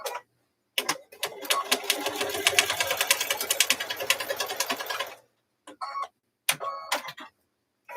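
A sewing machine stitches a quilted pot holder in a rapid, even burst of needle clatter lasting several seconds, then a few shorter runs after pauses, close and fairly quiet.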